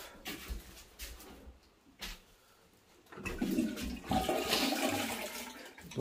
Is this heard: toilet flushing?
yes